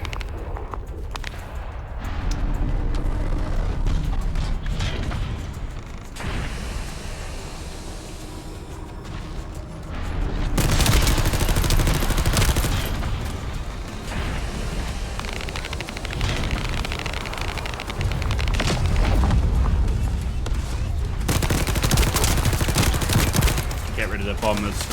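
SMG fire and explosions in the video game The First Descendant, dense rapid bursts of gunfire and booming blasts filling a loud, continuous battle, with a player's voice talking over the action.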